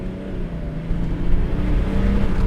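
Powerful diesel car accelerating hard with wheel spin, a loud close low engine roar that swells and holds steady with no voices over it.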